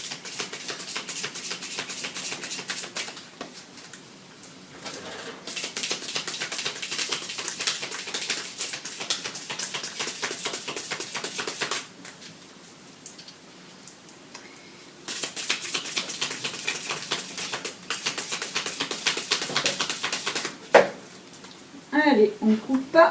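Oracle cards are shuffled by hand in steady, crisp bursts of papery riffling and sliding, with brief quieter pauses between runs and a few soft knocks near the end.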